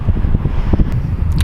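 Strong wind buffets the microphone in a continuous low rumble with gusty bursts, loud and close, with no voices.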